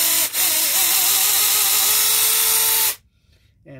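A battery-powered RLSOO electric chainsaw running at full speed, a loud steady high-pitched whine with slight wavering pitch for about three seconds before cutting off abruptly into near silence.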